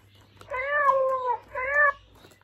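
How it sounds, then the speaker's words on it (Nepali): Two clear cat meows in quick succession, the second shorter, close and fairly loud, with no talk over them. "तिम्रो फेभरेट म्याउ क्याट"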